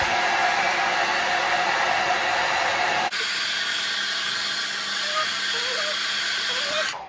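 A hair dryer blows loud and close while a fringe is straightened, its steady roar shifting to a slightly different tone partway through as the setting or angle changes.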